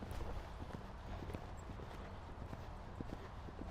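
A horse moving at a canter on a riding-school arena surface during a lesson, with steady rhythmic hoofbeats and light snorting at a moderate distance, quiet and without talk.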